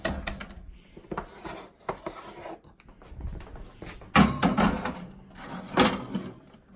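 A toaster oven door is shut after a large homemade wheat bread loaf goes in, giving a couple of close, sharp clacks and a rattle amid light handling noises, with no talk.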